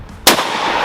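A single sharp AK-50 rifle shot cracks loudly and close after a short quiet moment, its blast decaying into a rough tail.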